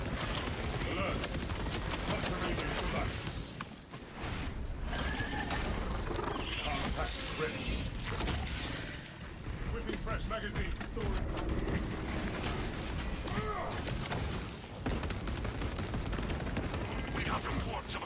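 Heavy bolt rifle fire in the Space Marine 2 video game: dense, rapid bursts of loud gunfire with mechanical clatter, broken by brief lulls, and game voices speaking over parts of it.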